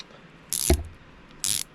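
Stubby flex-head double box-end ratcheting wrench turned by hand, giving two short, close ratchet clicking bursts separated by a brief pause.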